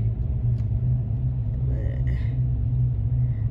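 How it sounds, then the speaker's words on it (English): Low rumbling road traffic idles and creeps at a light, heard close and steady, with someone talking faintly over it. "Look at all that traffic, man."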